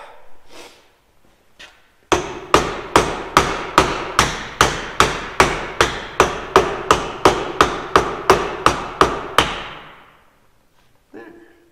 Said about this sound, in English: I did it with a rubber mallet too.